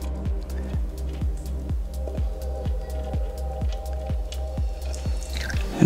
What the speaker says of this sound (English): And we'll just let our oil drain out.